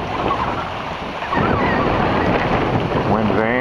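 Wind buffeting and rushing water surround a sailboat under way in an 18-knot westerly with an incoming tide, a loud, continuous wash that surges stronger partway through, with someone talking over it.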